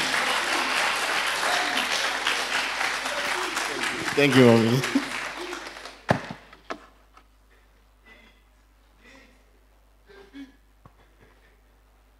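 A crowd claps steadily for several seconds, then the applause fades out, leaving a few scattered claps and someone speaking briefly.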